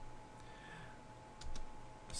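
Someone types a search on a computer keyboard, soft, rapid key clicks close by in a quiet room, a few slightly louder taps near the end.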